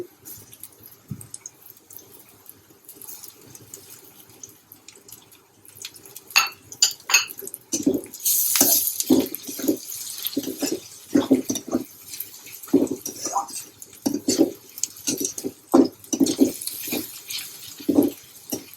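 Onion and crushed garlic fry in a pan, giving a soft steady sizzle and a low hiss broken by clinks and scrapes of a utensil against the pan.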